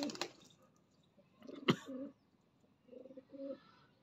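Pigeons coo softly in short bursts, close by, with a sharp flutter or clap in the middle and quiet pauses between the calls.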